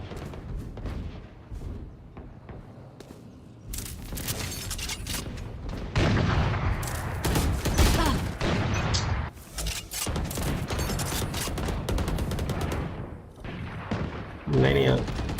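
Gunfire from the Valorant tactical shooter during a Fancy United versus Team Liquid match, with bursts and single shots crackling through a busy mix while a player talks.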